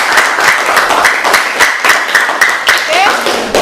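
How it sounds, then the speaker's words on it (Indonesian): Students applaud in an Indonesian classroom at the end of a physics lesson: a steady burst of many hands clapping together, lasting several seconds at close range. "Kita beri aplaus dulu."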